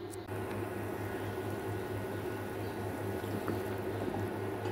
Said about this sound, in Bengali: 4 থেকে 5 মিনিট ফুটিয়ে নাও।